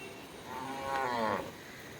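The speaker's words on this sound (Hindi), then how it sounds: "तो गाय सोच रही है उसकी मालकिन आ गई है, तो वो रंभाने लग गई है।" A cow in a farmyard near a vegetable garden gives a single drawn-out moo that rises and fades over about a second, moderately close against faint outdoor background, with no talk.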